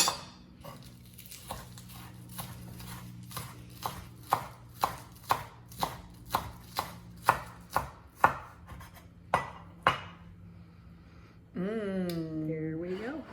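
A knife chops green onions on a board in steady, evenly spaced crisp strikes, about a dozen close-up knocks, ending with a brief rising and falling tonal whine.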